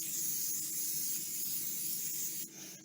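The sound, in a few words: non-stick butter spray sprayed onto baking sheets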